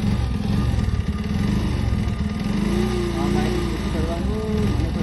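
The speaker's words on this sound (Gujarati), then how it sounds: "એક તો બાઇક આવે બાઇક" A motorcycle engine runs loudly and steadily close by, its low throbbing drone holding for several seconds as voices talk over it.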